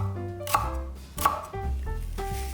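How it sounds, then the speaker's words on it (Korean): A knife chops celery on a cutting board, giving two sharp, close knocks about a second apart followed by a softer cut, with no talking. "두꺼운 부분은 길이로 반 잘라주고 1cm 두께로 송송 썰어주세요"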